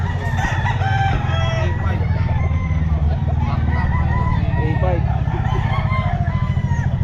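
Stag roosters crow and cluck at a busy pet market, loud and close over a constant low hum of engines and crowd noise, with people talking throughout.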